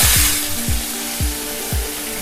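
Green pea paste sizzles and spatters in hot white oil in a wok, a close, steady frying hiss broken by a few dull knocks from stirring.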